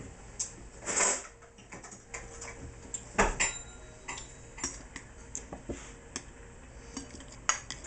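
A metal utensil clinks and taps against a bowl while habanero apple chutney ingredients are stirred and mixed, in a quick, irregular rhythm of close, light strikes.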